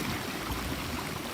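Water from a beaver pond flows over the dam, a steady close rushing and gurgling wash with no voices.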